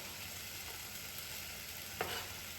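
Garlic frying in a pan, faint and steady: a soft, even sizzle runs throughout, with one brief clink or scrape near the end.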